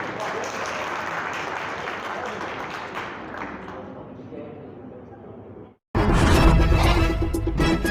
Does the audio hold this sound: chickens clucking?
no